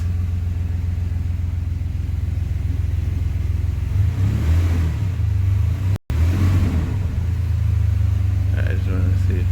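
A 2014 Chevrolet Silverado pickup, just fitted with a replacement rear end, starts up and drives off, its engine rumbling loudly and steadily with a brief rise in revs as it moves, while someone speaks over it.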